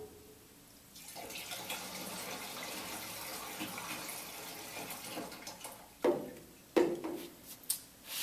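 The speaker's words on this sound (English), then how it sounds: "remove the plug and add water" Water pours from a tap into a basin in a steady rush for several seconds, then a few splashes and bumps as it stops.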